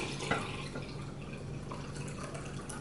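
Excess dye liquid poured off hand-dyed cross stitch fabric, a soft, continuous trickle and splash with a few drips, close and fairly quiet.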